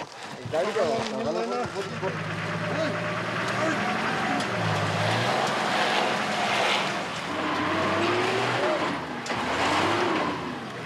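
A stuck two-ton vehicle on a rough Nepal mountain track revs its engine in repeated rising and falling surges, heard close under a narrator's voice.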